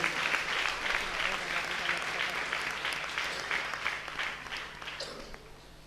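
A church congregation at a Tamil Sunday service gives a round of applause, a broad, fairly distant patter of clapping that swells and then gradually thins out.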